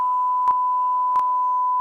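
A steady loud sine-tone censor beep runs continuously, covering a swear word, with brief faint clicks breaking through twice.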